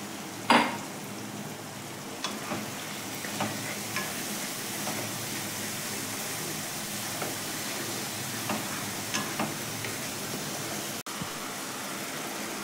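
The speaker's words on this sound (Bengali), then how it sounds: "অল্প করে জল দিয়ে এই মশলাটা ভালো করে কষবো।" Ground spice masala for alur dom frying in a pan with a little water: a steady, moderately quiet sizzle with occasional soft scrapes and clinks of stirring.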